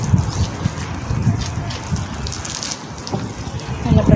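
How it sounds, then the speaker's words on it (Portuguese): Water runs steadily from a tap during a car wash, a continuous broadband rush with a few knocks and splashes and no pause across the whole stretch. "a água tá até fortezinha"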